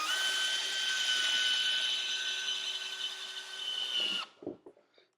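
A power drill runs steadily for about four seconds, driving a screw into a kitchen cabinet, then stops abruptly, followed by a few faint knocks and handling sounds close by.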